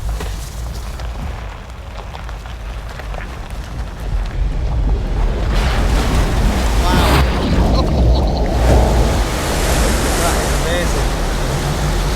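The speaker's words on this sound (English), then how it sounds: "We're making a bow wave." A Ford Bronco ploughs through deep water off-road, pushing a bow wave; a continuous loud rush and slosh of water swells midway, mixed with wind buffeting and occasional talk inside the vehicle.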